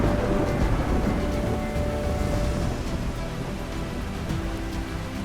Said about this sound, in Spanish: La lluvia empapa la tierra reseca